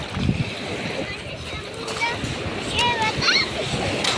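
Sea waves wash and splash at the shore during a beach outing, a loud continuous surging close by, with a child and an adult talking over the water.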